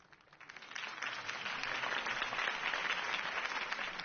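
Crowd applause following a campaign speech in the Batman Telltale video game, swelling quickly from a quiet start into steady, dense clapping that holds at even strength throughout.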